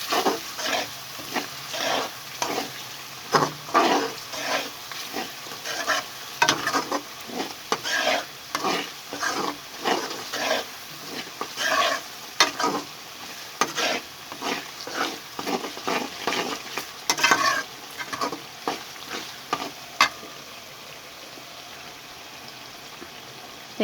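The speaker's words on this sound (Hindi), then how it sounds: "इसको हिलाएंगे इस तरह से।" Chicken kofta masala fries in a pan while being stirred, with repeated scraping strokes in an irregular rhythm over a steady sizzle. The stirring stops near the end and the frying continues alone, close up, with no talking.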